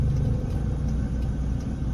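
Road traffic rumbles in a steady, low drone of car engines, close and continuous, with no voices.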